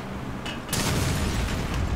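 A bomb bottle in Resident Evil Revelations 2 bursts with a single sudden blast after a short quiet lead-in, followed by a rough, sustained rumble.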